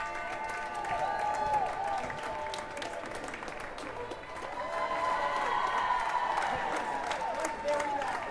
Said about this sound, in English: when the crowd is cheering, it's best for me just to step aside